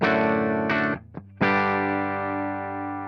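An electric guitar played through a pedal board with the effects switched off gives sustained chords with rich overtones, one held chord, a brief pause, then a strong new strum that rings out and slowly fades.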